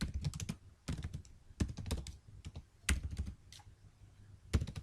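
Code is typed on a computer keyboard in quick bursts of close, crisp key clicks separated by short pauses, with no talk.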